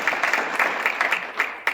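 Applause from an audience at a live debate event between Vermont lieutenant governor candidates, a brief dense patter of many hands clapping at steady moderate volume, with no voices over it.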